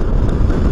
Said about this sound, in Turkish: Ya felaket de rüzgar var şu anda.